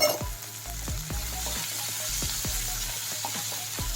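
Onions frying in a pan for a Chinese potato (koorkka) stir fry, a steady close sizzle broken by regular scraping and tapping strokes of a spatula stirring.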